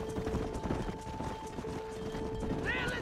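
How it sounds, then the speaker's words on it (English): Horse hooves clip-clop at a steady trot in the Red Dead Redemption video game, a continuous rhythmic clatter with a brief whinny near the end, layered over a constant background drone. "Learn how to control that horse"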